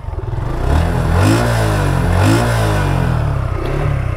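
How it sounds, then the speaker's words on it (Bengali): A Suzuki Gixxer 155 motorcycle engine runs close by, revving up twice in smooth rising swells over a throbbing single-cylinder idle, then settling back, loud and alone. "okay let start the bike the sound is so cool"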